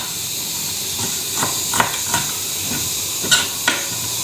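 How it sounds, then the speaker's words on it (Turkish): Minced meat frying in a pan gives a loud, steady hiss and sizzle close by, broken by several short scraping stirs of a utensil against the pan. "Soğanları kavurmayacağım ama kıymasını kavuruyorum şu anda."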